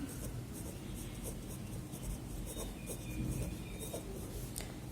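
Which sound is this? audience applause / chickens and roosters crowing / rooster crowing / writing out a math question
writing out a math question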